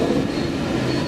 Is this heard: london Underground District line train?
yes